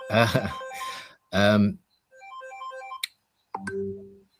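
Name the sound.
mobile phone ringing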